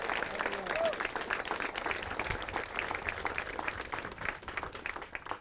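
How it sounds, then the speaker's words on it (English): Audience applauding firefighters at a neighborhood reunion and grand reopening of the Driving Park Community Center, a dense wash of many hands clapping steadily throughout, with a few voices calling out faintly in the crowd. "How about a round of applause for the best division of fire in America?"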